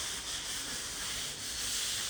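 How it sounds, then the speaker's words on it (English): Sanding a surface by hand to prep it for paint during a beach house build in Barbados, a steady close abrasive rubbing hiss running without pause for a couple of seconds. "Showing sanding down, getting ready for paint."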